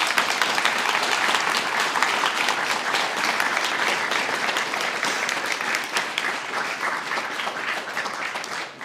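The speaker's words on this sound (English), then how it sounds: "Let's give a last round of applause to our class 994." Audience applause for a graduating guide dog class at a celebration, a dense, steady wash of many clapping hands that holds for about nine seconds and tapers slightly at the end.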